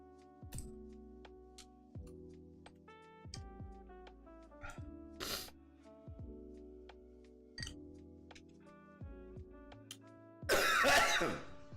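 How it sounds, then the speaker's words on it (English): Several harsh coughs and throat-clearing bursts break in over a droning musical background, with the loudest, longest cough near the end. "Fucking hate coughing."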